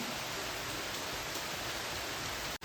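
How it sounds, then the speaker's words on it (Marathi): Heavy monsoon rain pours down in a dense, unbroken hiss that stays steady and even throughout. "मस्त किती पाऊस पडतोय"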